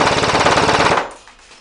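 VFC Avalon Samurai Edge airsoft rifle firing on full auto, a loud, close, rapid even burst of shots lasting about a second before cutting off into quiet.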